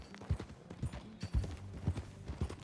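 Horse hooves clip-clopping in a steady, even trot in the video game Red Dead Redemption 2, a string of close, crisp thuds with no voices over them.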